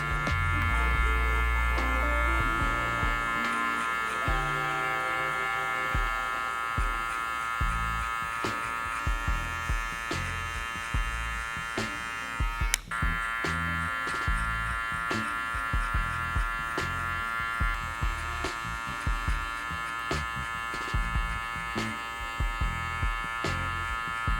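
Electric hair clippers cutting hair during a burst fade: a continuous close buzzing motor with rhythmic strokes and small pulses as the blade runs through the hair, plus one sharp click midway.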